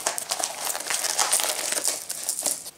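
Newspaper soaked in water crumpled by hand to stuff inside a tight shoe, a steady close crinkling and rustling that runs unbroken for a few seconds with no talking.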